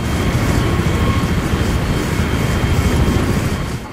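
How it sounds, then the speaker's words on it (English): An enemy helicopter roars in a military shooter video game, a loud, steady engine and rotor drone filling the whole stretch without talk. "There it is. Enemy helicopter."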